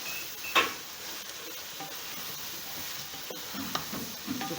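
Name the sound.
green chillies and garam masala frying in pan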